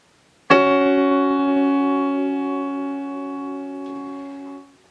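Two notes struck together on a piano during an ear-training exercise for a conservatory entrance exam, one sharp attack followed by a long sustained chord that slowly fades.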